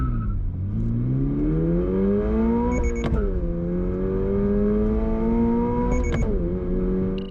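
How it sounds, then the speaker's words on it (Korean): A 2022 Toyota GR86 accelerates hard from a standstill, its engine note climbing steadily through the revs with two quick upshifts. Each shift briefly drops the pitch before it rises again, loud and close throughout. "그럼 이번에 토요타 86 발진 가속 성능 얼마나 나오는지 볼까요?"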